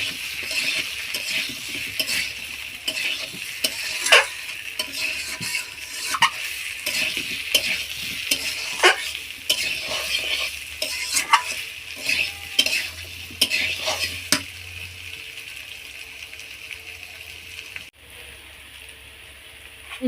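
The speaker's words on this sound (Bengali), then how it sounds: "দিয়ে সুন্দর করে নেড়েচেড়ে আবার মিশিয়ে নিচ্ছি" Ground cumin paste sizzles steadily in a pan for a spicy potato curry while a utensil stirs and scrapes against the metal in repeated clinks and scuffs, close and fairly loud, with no talking.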